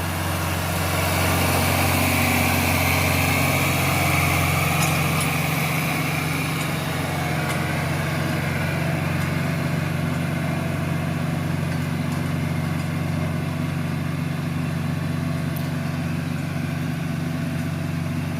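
John Deere 2940 tractor hitched to a 4-row corn planter in a field, its diesel engine a steady low drone heard at moderate distance, continuous with no talk.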